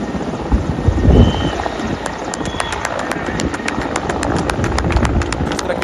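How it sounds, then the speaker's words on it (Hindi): A helicopter hovers over a flooded river while a worker is rescued, its rotor making a continuous rhythmic thudding chop beneath crowd noise and a voice. "और जब हेलीकॉप्टर से इसका रेस्क्यू किया गया,"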